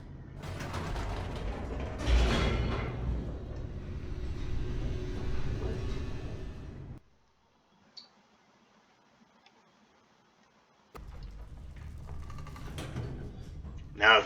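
Elevator machinery in The Stanley Parable: Ultra Deluxe rumbles with mechanical clanks and creaks, then drops to near silence before the grinding hum returns, with someone talking at times.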